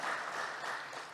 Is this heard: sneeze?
no